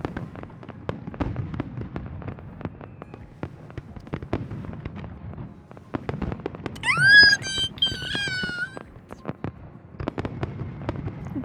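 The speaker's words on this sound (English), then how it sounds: "fireworks explode outside, resembling jellyfish drifting in the sea" Fireworks burst outside in a scene from the video game Love and Deepspace: a string of sharp pops and crackles runs throughout, with a rising whistle-like tone partway through.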